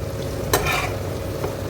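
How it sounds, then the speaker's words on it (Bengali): Paneer fries in a pan over low heat with a continuous crackling sizzle, broken by a sharp scrape of stirring near the middle and a softer knock toward the end. "এদিকে পনিরটা একটু ভেজে নিচ্ছি"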